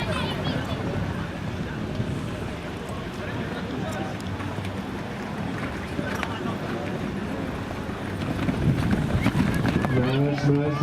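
Horse galloping across the pitch during a horseball match, a steady drumming of hooves mixed with busy crowd and commentary-style talk throughout, growing slightly louder near the end.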